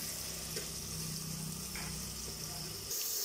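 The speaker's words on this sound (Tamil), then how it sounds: "நல்லா வதக்கி விட்டுக்கலாம் இது கோல்டன் கலர் ஆகற வரைக்கும் நல்லா வதங்கட்டும்" Onions with ginger garlic paste and salt saute in a pan for mushroom biryani, a steady broadband sizzle with faint stirring scrapes throughout, close by, ending in a brief louder rush.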